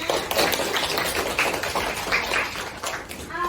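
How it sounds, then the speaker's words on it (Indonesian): Classroom audience applauding student presenters, a dense, steady patter of many hands clapping at close range for a few seconds. "Kita berikan aplaus dulu untuk yang presentasi hari ini semuanya"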